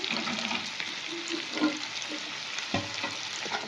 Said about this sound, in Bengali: আবার এখানে দিয়ে দেবো আমি বিনস কুচি, নাড়াচাড়া করে নেব।